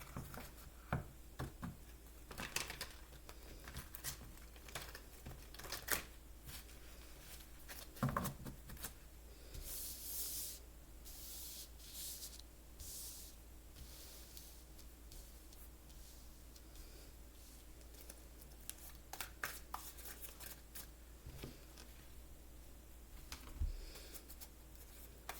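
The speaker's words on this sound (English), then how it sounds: "I just like the way this one shuffles." Playing cards shuffled several times in quick riffled bursts, soft and fairly close, with pauses between, in a quiet room.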